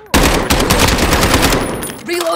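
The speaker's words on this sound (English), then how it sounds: "They're firing at me." Machine gun fire rattles in the game Call of Duty: Warzone, a loud continuous burst of rapid shots lasting about two seconds, close and dense, ending abruptly.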